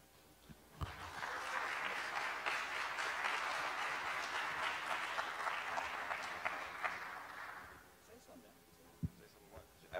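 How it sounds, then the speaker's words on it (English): Conference attendees in a ballroom applaud a panel, a broad burst of clapping that rises quickly, holds for about seven seconds, then fades, with a few isolated claps and faint voices on either side. "please give a big applause for the panelists"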